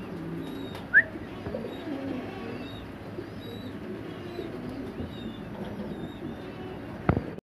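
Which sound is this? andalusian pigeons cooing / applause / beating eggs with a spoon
andalusian pigeons cooing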